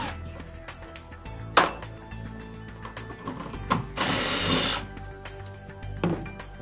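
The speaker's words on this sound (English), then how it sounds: "we're going to use a 10 millimeter socket and remove our seat back cushion" A cordless drill with a 10 mm socket removes the seat back bolts on a Club Car Precedent golf cart, giving short whirring bursts, including one longer run, amid clicks and handling noise, close by.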